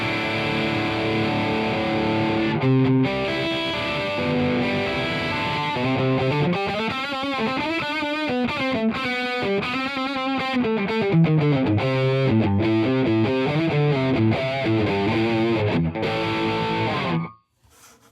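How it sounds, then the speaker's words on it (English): Electric guitar played through an AmpliTube 5 distortion pedal with a noise gate and chorus, sustained heavily distorted chords and a shifting melodic run, loud and close, cutting off abruptly at the end. "Distortion pedal, noise gate, and a chorus."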